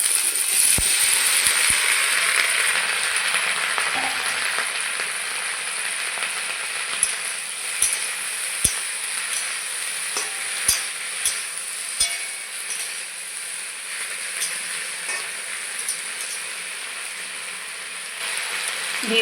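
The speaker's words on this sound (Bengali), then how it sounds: "পেঁয়াজ লঙ্কা ভালো করে ভেজে নিয়েছি। এখন কচুর ফুলগুলো দিয়ে দেব।" Taro flowers frying in a pan with onion and chili give a steady bright sizzle, punctuated by scattered metallic clinks and scrapes of a utensil against the pan; no talking.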